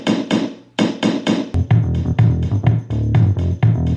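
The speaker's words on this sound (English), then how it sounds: "I added in some shaver hits that go like this." Electric shaver hits are used as percussion in a house music track. Sharp rhythmic clicks open the pattern, then give way to a denser looping beat of punchy layered hits in a steady groove.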